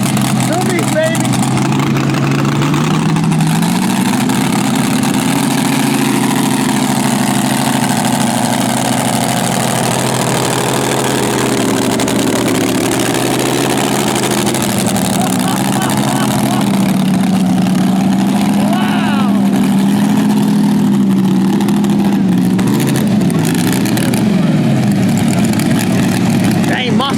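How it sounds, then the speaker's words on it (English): A pulling tractor fitted with open zoomie headers idles loudly at a tractor pull, its deep rumble swelling as the revs rise and fall and climbing higher near the end, with crowd noise and talk underneath. "this tractor has zoomies on it, not a collector, so this is going to be louder"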